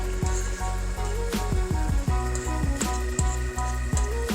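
Hamburger meat for goulash sizzles in a pan while a utensil stirs and scrapes through it in repeated rhythmic strokes, close and fairly loud, with no speech.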